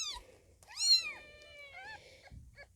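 A Birman kitten, one of a seal-point litter, meows several times up close, with a long drawn-out cry in the middle and short mews around it, plus faint handling noises underneath.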